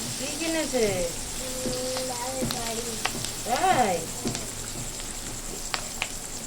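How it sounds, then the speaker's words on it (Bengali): Capsicum and onion frying in a pan with a little turmeric powder, giving a steady soft sizzle beneath a voice that talks through most of it. "দেখুন ক্যাপসিকাম আর পেঁয়াজটা মোটামুটি ভাজা হয়ে এসেছে।"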